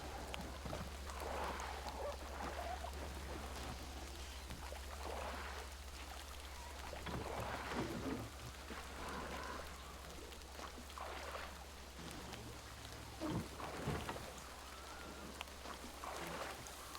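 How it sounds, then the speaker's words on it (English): Heavy rain pours down in the video game Metro Exodus, a dense, continuous hiss of falling water with a low steady hum beneath. It stays fairly even throughout, with faint swells and occasional soft thuds. "It's really coming down with the rain now."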